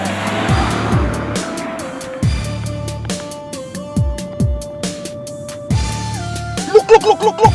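A Toyota car being driven hard in a chase, engine revving with gear shifts and tire noise, loud and close throughout with brief squeals near the end, no talk over it.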